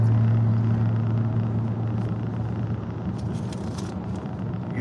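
A truck with a 24 valve Cummins diesel engine holds a steady, smooth drone at around 2,400 RPM, a continuous low hum with a loud, even tone throughout, heard from close by with no talking.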